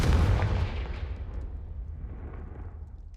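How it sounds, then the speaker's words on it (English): A Confringo fire spell blasts in the Hogwarts Legacy video game, a single deep booming burst at the start that rumbles and slowly fades into a low rolling tail. "Confringo!"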